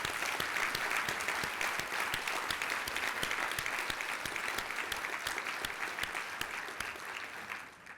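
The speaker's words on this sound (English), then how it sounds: "Please join me in giving Elaine a round of applause" An audience at a university academic affairs address applauds steadily, dense clapping holding for about eight seconds before tapering slightly at the end.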